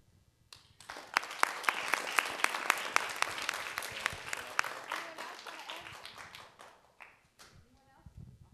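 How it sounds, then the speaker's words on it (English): Children and adults at a Let's Move! event with the LA Galaxy break into applause, starting with a few claps, swelling into lively close clapping, then thinning out with scattered claps near the end. "let's give one more round of applause for our wonderful LA Galaxy folks"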